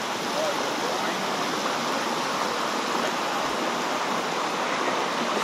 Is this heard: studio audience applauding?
no